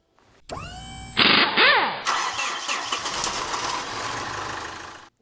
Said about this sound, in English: crank the engine over right now to see if we're still able to build fuel